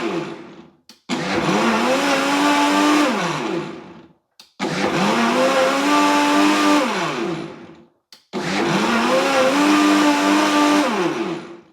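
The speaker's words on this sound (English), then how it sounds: "one thing I do like about this blender is how stable it is. I'm just going to turn it on to show you without holding on to it at all" A FIMEI professional blender runs on low mode in three long bursts separated by brief pauses, its loud motor whine steady and close with no talking.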